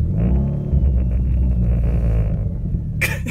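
A car engine rumbling after a cold start, a loud, deep, uneven idle that stays close and steady, with a brief burst of sharper noise near the end.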